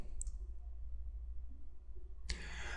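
Computer mouse clicks while double-clicking a folder in BeerSmith recipe software: a brief faint click early on, then a sharper click near the end over a low background hum, with no talk.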